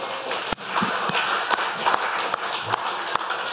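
A church congregation applauding during a Sunday service: a steady spread of clapping over a few seconds, moderately loud and diffuse, with a few sharper claps standing out.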